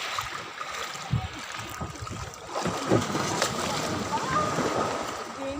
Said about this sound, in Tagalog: So, akit na po kami ngayon ng bangka.